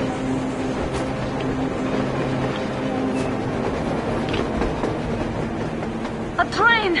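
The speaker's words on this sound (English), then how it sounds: "A train! A damn train on the surface!" A train rolling on the surface in the video game Metro Exodus, a low steady rumble with faint rhythmic clatter, ending in a brief high squeal, while a voice talks over it.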